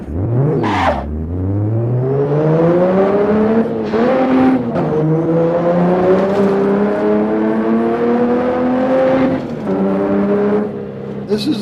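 A modded racing video game car engine sound revs up steadily through a few gear shifts, rising in pitch with whining harmonics, loud and continuous.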